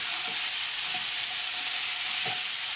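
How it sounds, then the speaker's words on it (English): Sautéed crookneck heirloom squash is stirred in a frying pan with the gas just turned off, a loud, continuous sizzle with a few soft scraping strokes of the spoon, and no voices. "turn off the gas and mix it one more time"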